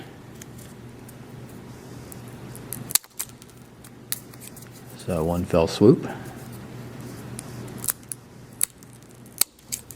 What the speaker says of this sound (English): we'll just cut those off with the scissors